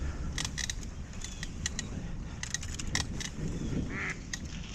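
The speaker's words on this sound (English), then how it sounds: "I got yelled at by a duck." Duck in a park pond area quacking in a rapid series of short, faint honking calls, heard over steady outdoor background noise during a bike ride.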